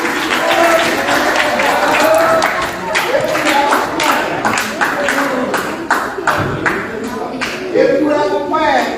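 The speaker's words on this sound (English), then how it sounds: "Can y'all give them a round of applause?" Audience applause with dense claps and some cheering fills the whole stretch at a steady, loud level, crowd noise rising and falling throughout.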